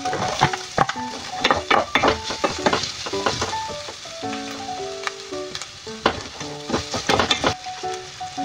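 Ginger sizzles in a hot pan while being stirred for a fish dish with black beans, with steady frying hiss broken by repeated sharp scraping and tapping of a utensil against the pan.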